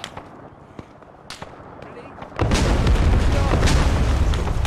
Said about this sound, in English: Satchel charge.